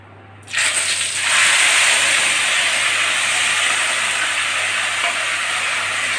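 A ground paste of chili, cumin, onion, garlic and ginger is dropped into hot oil for a catla fish dish and sizzles at once into a loud, steady frying hiss that continues up close.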